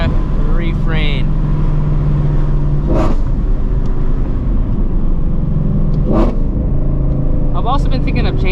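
A New Edge Ford Mustang GT with a Ford Borla exhaust gives off a deep, steady engine rumble from inside the car as it accelerates, with someone talking over the drone.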